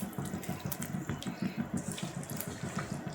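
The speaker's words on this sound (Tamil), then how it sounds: "நல்லா தண்ணியாக வடிச்சிட்டு" Water running and splashing steadily while draining during the cooking of a small kendai fish curry, a continuous close gurgling flow with no talk.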